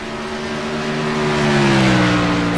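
Race car engines droning loud and steady, a sustained tonal whine that swells slightly in volume and dips in pitch toward the end, like cars passing near on a broadcast feed.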